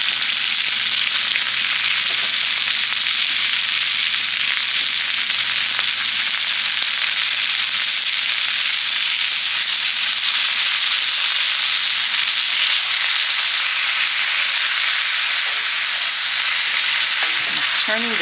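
Haddock frying in a pan with onion and asparagus, a loud, dense, unbroken sizzle held close for the whole stretch, with faint stirring scrapes near the end.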